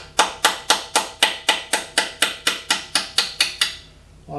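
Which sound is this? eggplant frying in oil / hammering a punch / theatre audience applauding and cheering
hammering a punch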